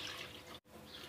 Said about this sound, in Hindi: इसमें मैं डाल रही हूँ एक गिलास पानी